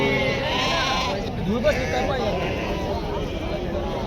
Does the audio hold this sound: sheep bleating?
yes